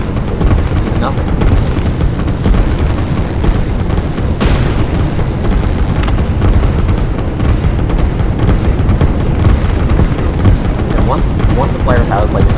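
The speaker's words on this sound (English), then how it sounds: "we're just gonna watch this massive fist of artillery pound this base into nothing" Massed artillery pounding an enemy base in the strategy game Line War, a dense, continuous rumble of overlapping blasts with a sharp crack near the middle, loud and unbroken throughout.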